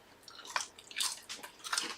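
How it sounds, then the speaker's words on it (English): Crunchy homemade potato chips made in an air fryer are bitten and chewed up close, three or four crisp crackling bites in quick succession with no talking. "Excuse me while I talk to you and eat at the same time."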